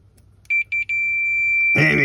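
A continuity tester on a broken Husqvarna Automower boundary wire gives three short beeps and then a steady, high-pitched tone, with a voice starting to talk over the continuing beep near the end.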